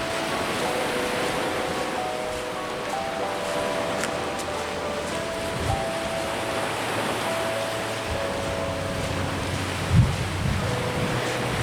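Sea waves roll in at Angsana Beach in Tanah Bumbu as a steady, enveloping wash of surf mixed with wind rumbling on the microphone, continuous throughout with no voices.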